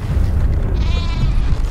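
Sheep bleating in the Metal Gear Survive video game, a short wavering cry over a heavy, steady low rumble of game ambience, with no talk.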